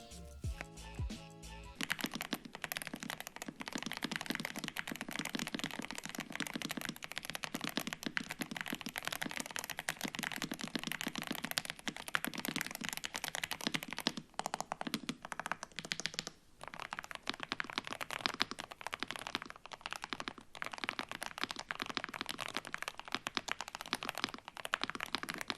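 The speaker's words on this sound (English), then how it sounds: "So let me give you a sound test." Typing on a Yunzii B75 Pro mechanical keyboard produces a fast, continuous stream of close clicky keystrokes that runs for about twenty-five seconds, with brief pauses and no speech.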